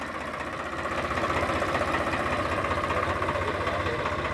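A Swaraj 744 FE tractor engine runs steadily at idle, with a continuous low diesel rumble and knocking vibration, close and fairly loud throughout with no talking.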